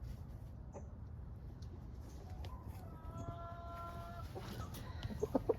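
Rhode Island Red chicken clucking outdoors, a few short soft clucks and a brief tonal call near the middle, with sharper clucks close by at the end over steady low background noise.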